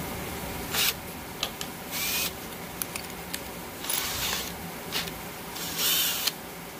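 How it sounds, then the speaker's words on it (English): A larger drill bit widens holes in a soup can for a homemade stove, giving short, close bursts of grinding and whirring separated by brief pauses and small clicks. "Now you're going to grab a larger bit and you're going to enlarge those just a little bit."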